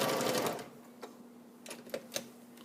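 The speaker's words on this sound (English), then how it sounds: "So you can go ahead and stitch that on right through to the end, using your 1/4 inch seam." A sewing machine runs through a 1/4 inch seam, binding the edge of a small open tote bag, starting with a loud steady whir that fades into quiet hum and a few faint clicks near the end.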